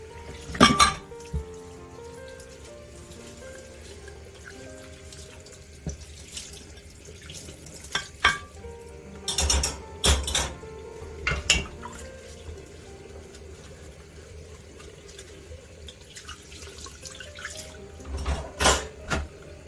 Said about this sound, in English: we are washing up as we go along, because I don't want to have too much to wash at the end